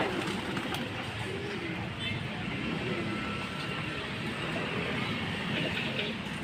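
Pigeons in a loft give a low, continuous murmur of cooing with a steady background hum, and a faint voice can be heard under the birds.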